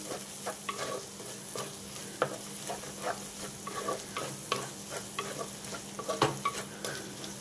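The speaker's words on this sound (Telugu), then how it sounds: "ఈ ఉప్పు, కారం, అల్లం వెల్లుల్లి పేస్ట్ కొంచెం వేగాలి" Salt, chili powder and ginger-garlic paste frying in hot oil in a pan, a soft steady sizzle broken by repeated scraping strokes of a spoon stirring the masala, close and fairly quiet.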